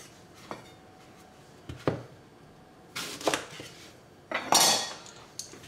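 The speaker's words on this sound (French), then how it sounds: "Je vais d'abord les couper en 4." Knife slicing apples into quarters on a cutting board, four separate close cuts and knocks spaced out with quiet between them, the last one loudest, no one talking.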